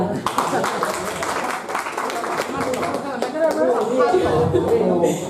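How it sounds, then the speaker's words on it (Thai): A student audience at a university human-rights awareness event claps, with a burst of applause at the start, then scattered clapping under lively chatter and someone speaking. "ขอเสียงปรบมือค่ะ"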